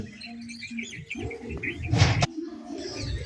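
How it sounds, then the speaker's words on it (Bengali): A bank myna calls near a date palm hung with a sap pot in rural Bengal, giving short chirps and harsh notes at close range, with a brief burst of rustling partway through. "এটা হলো গাং শালিক।"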